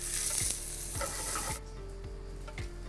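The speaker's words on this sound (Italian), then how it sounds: "I nostri pomodori stanno andando, guardate quanto sono belli, non deve bruciare," Tomatoes caramelizing in a pan, with a loud, dense sizzle and a few soft stirring scrapes; the hiss drops noticeably about halfway through.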